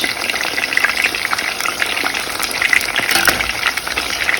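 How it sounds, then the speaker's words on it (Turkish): Steady crackling sizzle of food frying in hot oil, a dense continuous hiss with scattered pops, close and fairly loud, no voices. "Böyle kızartıyorum. Sıvı yağ ile beraber"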